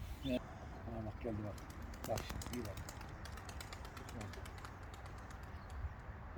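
Faint pigeon cooing mixes with soft fluttering wing flaps and light clicks, heard from a short distance with some low voices in the background.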